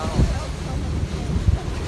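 A fishing boat rides over ocean waves near Cape Coral, with steady low wind and water rumble and occasional heavier thumps as the hull meets swells.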